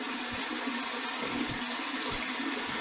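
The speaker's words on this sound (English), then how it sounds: "A great, great cold water rinse." Cold tap water running for a rinse after a razor shave, a steady broadband splashing hiss with a few low gurgles, close and continuous.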